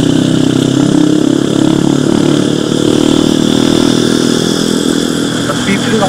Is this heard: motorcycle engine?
yes